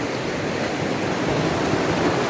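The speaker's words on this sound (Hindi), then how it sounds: "ये पानी चल रहा है, आप अपनी आंखों से देख सकते हैं जी।" Water flows through a valley in Skardu, Pakistan, a steady, loud, broadband rush that continues without a break.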